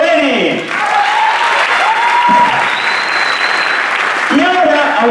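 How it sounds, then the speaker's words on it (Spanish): Loud, continuous audience applause at a choreographed dance show, a thick crowd clapping throughout with voices and cheering rising above it. "Un fuerte aplauso para Estefanía Robeni."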